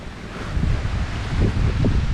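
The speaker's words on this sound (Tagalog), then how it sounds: "lakas ng hangin" Strong storm wind at a beach buffets the microphone in a steady, loud roar with gusty surges, no voices present.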